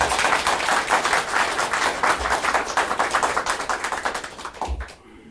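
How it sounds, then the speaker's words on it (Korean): Loud crowd applause at a political rally in Korea, many hands clapping in a dense, rhythmic burst that carries on for several seconds before tapering off, with a couple of low thumps near the microphone. "박수가 나와야 합니다."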